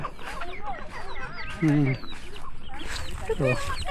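Chickens cluck and squawk in repeated short bursts around a rural farmyard with ducks present, the birds fairly close and loud, while people talk over them.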